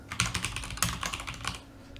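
Rapid keystrokes on a computer keyboard while a message is entered into a web chat app, a steady run of close, crisp clicks for about a second and a half before tapering off.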